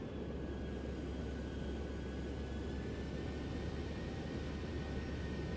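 A distant aircraft engine drones low and steady as it flies past in the X-Plane 12 flight simulator, a fairly quiet, continuous rumble with no talking.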